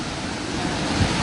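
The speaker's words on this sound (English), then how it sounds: "Costa, Latoya, are you supposed to be getting this wind here?" Hurricane Dorian's wind roars over St. Thomas in a steady, dense rush that never lets up across the short stretch, with no voices over it.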